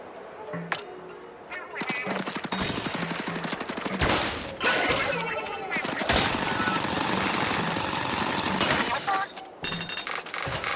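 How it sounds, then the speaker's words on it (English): Bot drilling into a crystal in the Splatoon Raiders video game: a dense, continuous grinding rattle with bursts of crackling and shattering, loud and steady over the whole stretch, broken by a couple of brief dips. "Stand next to the crystal and press X to call the bot to drill into the crystal"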